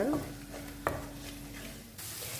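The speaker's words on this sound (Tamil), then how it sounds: "இந்த இஞ்சி பூண்டு பச்சை வாசனை போகிற அளவுக்கு நம்ம நல்லா வதக்கிக்கலாங்க" Ginger-garlic paste sautés in a pan for a mushroom paneer gravy, a soft low sizzle with a single sharp utensil knock and faint scraping, the hiss rising slightly near the end.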